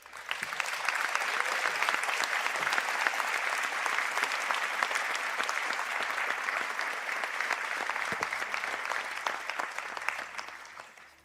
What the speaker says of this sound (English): to stand for their round of applause.